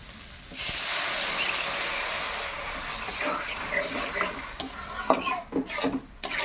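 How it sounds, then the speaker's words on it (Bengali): Taro sautéed with spices in a hot pan for a Bengali curry, a loud, steady sizzle with stirring scrapes and clacks growing busier toward the end. "কচুটা দিয়ে মশলার সঙ্গে আমি ভালোভাবে কষিয়ে নিই"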